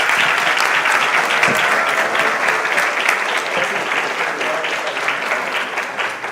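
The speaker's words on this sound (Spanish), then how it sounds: "les pido un aplauso para despedir a nuestro panel" An audience at a nearshoring summit in Mexico gives steady, sustained applause to send off a departing panel, loud and continuous before slowly thinning toward the end.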